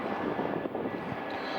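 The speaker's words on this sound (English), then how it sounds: "Oh, the third plane I've seen take off so far." Fixed-wing airplane taking off near Changi airport by a coastal river, a steady broadband engine roar holding loud and continuous throughout, with no voices.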